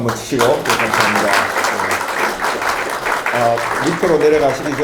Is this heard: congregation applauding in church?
yes